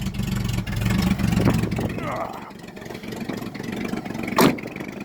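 A 1964 Chevelle engine starting and revving, a rough mid-pitched motor running loudly throughout with surges in intensity, while a person talks over it.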